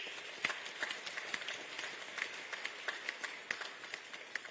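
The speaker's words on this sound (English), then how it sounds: "I think that deserves a round of applause." An audience at a FIFA Club World Cup trophy event in Washington, D.C. claps steadily, sounding faint and distant as a scattered patter of applause with no voices.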